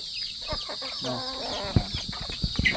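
Young chickens near maturity give soft, clucking calls up close, short irregular notes with one longer warbling call partway through, over a quiet rural background.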